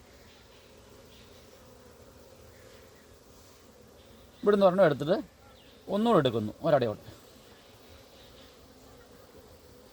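A low, steady buzz of karinjodi honeybees hums around an opened hive as the colony is split, with a nearby voice talking in short bursts over it.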